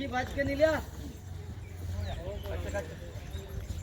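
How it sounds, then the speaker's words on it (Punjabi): An unruly horse's hooves clip-clop on the ground while people talk over them, the steps fairly close and irregular in rhythm. "ਪੂਰਾ ਅੜਬ ਘੋੜਾ ਇਹ ਦੇਖੋ"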